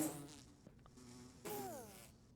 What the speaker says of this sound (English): really don't want to lose any bees